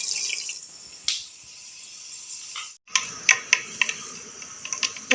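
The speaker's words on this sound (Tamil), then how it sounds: "இப்போ கடுகு பொரிஞ்சிச்சு." Mustard seeds pop and splutter in hot oil on a stove, sharp irregular crackles over a soft sizzling hiss, with a brief pause before the popping resumes in quick bursts.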